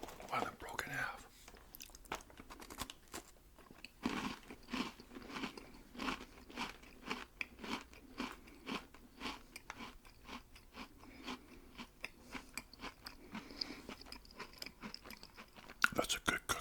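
Crunchy cookies bitten and chewed close to the mic, with repeated crisp crunches and wet chewing in an irregular rhythm across the whole stretch, plus a louder burst near the end.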